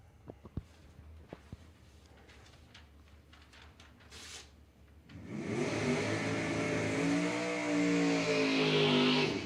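A Chevrolet Camaro drag racing car launches on a strip, a loud broadband engine roar that swells and holds steady after a few seconds of quiet crowd noise and faint clicks.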